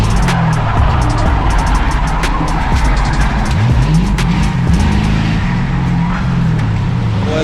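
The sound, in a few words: Crown Victoria race cars spinning out, skidding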